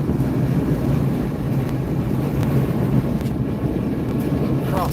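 Steady crosswind sweeps across an open field, a continuous low, rumbling roar buffeting the microphone throughout, with no speech.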